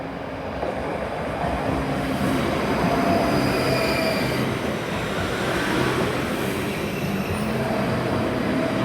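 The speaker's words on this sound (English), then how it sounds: "coming in now is a delayed 1112 service. This is a ScotRail service from Helensburgh Central to Edinburgh Waverley." A ScotRail Class 334 electric unit rolls into Haymarket station on a Helensburgh Central to Edinburgh Waverley service, with a steady close rumble of wheels on rail and faint squeal throughout.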